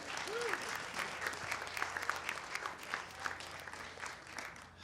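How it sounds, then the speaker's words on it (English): An audience gives a storyteller a warm round of applause at a storytelling slam, steady clapping from a crowd heard at moderate distance throughout. "Let's give it up, a warm round of applause for David Gaines."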